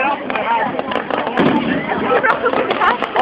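Fireworks bursting in the dark at a Sproai display, a steady run of crackling pops and sharp bangs at close range, with people talking over them.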